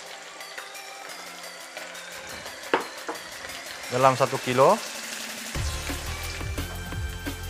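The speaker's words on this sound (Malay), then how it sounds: "kita akan goreng daging sebentar" About a kilo of beef for ginger beef goes into a hot pan, a quiet start giving way to sizzling and stirring scrapes, then a steady louder fry, with a voice speaking briefly.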